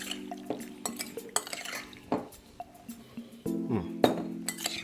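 A utensil stirs brandy into cherry chocolate cake ingredients in a glass bowl, giving repeated clinks and scrapes against the glass in an uneven rhythm, close and fairly quiet.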